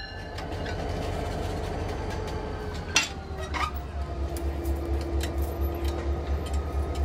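An Alaska Railroad train rolls through the wilderness, a steady low rumble of wheels and rail with rattling, clinking carriage noises and a couple of metallic squeals and clanks, heard from on board.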